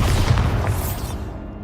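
A Bombarda blasting spell explodes in Hogwarts Legacy as a loud, close, rumbling boom that rolls on for over a second and then fades out.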